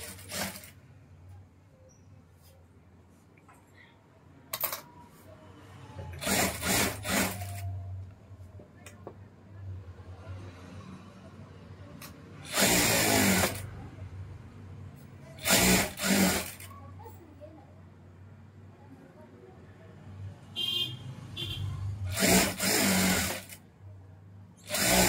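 A sewing machine stitching the lining of a cotton blouse runs in several short bursts, each a loud, fast whirring rattle, with quieter gaps between them where someone talks.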